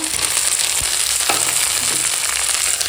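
Tomato going into a frying spice paste of ginger and garlic brings a loud, close, continuous sizzle with a few soft knocks of a utensil, no voices over it.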